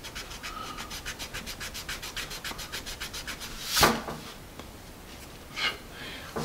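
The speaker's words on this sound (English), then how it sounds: "I'm going to do some erasing, and I'm going to start with the attached eraser" A pencil's attached eraser, on a Dixon Ticonderoga 2HB, rubs graphite off paper in quick, steady back-and-forth strokes, followed by a louder single swipe and a later fainter one. The strokes are close and soft, with no talking.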